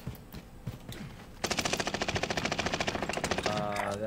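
Rapid automatic gunfire rattles out in a long sustained burst in a video game after a few quieter sounds, fairly close and loud, ending in a lingering tail.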